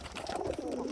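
A pigeon coos close by in a home pigeon loft, a soft throaty burbling call that rolls through the brief moment. A faint voice sits underneath it.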